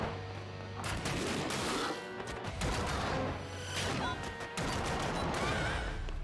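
Rapid machine gun fire in ScourgeBringer, a dense, loud, sustained rattle of shots with brief gaps, layered with crashing impacts and game effects.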